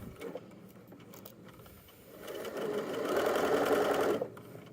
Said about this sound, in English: I'm going to line this up at 5/8 inch seam allowance, and then I'll sew all the way around